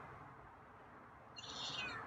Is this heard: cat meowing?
yes